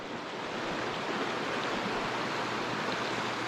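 Stream water flowing beside a bike trail in Canada, a steady, even rush of moving water heard up close, constant and unbroken, with no voices.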